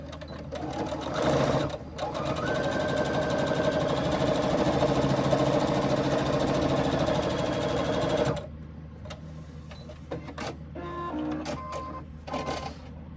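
A sewing machine stitching the side seams of a fabric crossbody bag, a fast steady mechanical whir running close for about eight seconds, then stopping and giving way to fabric handling clicks and rustles.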